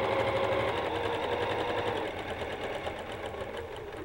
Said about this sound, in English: You want to go all the way around the heart with your stitching.